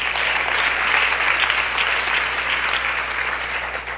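Loud, continuous audience applause fills the whole stretch at a Resurrection event in San Andrés Xecul, a thick, unbroken roar of clapping with a low steady hum beneath.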